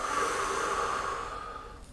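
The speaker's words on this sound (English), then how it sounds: "take nice deep breath into the chest and then just breathe out as much air as you can" A single long, deep exhalation pushed out through the nose and mouth during a glute bridge breathing exercise, a steady close airy rush that fades near the end.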